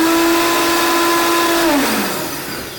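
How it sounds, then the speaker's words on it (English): A Vitamix blender roars loudly and close with a steady high motor whine, then winds down as the pitch drops near the end. "it's the Vitamix especially is such a powerful blender that it will incorporate some air into this"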